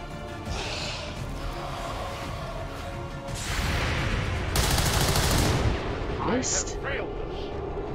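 Covering gunfire in the XCOM 2 video game, a dense burst of rifle and heavy weapon shots rising to a loud, broadband barrage midway, with whooshing effects and voices over it.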